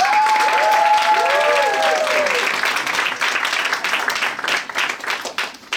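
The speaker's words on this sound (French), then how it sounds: "Faites un tonnerre d'applaudissements pour Willy Wonka." Audience at a children's musical show applauds the entrance of Willy Wonka, a burst of clapping with excited whistles and cheers at first, then thinning into scattered claps.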